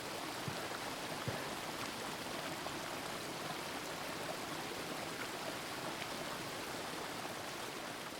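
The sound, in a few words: river flowing water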